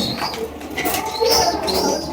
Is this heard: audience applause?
no